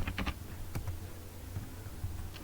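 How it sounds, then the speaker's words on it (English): Close, quiet clicks from a computer keyboard come in short bursts of typing separated by pauses. "So I'll just come here and type localhost"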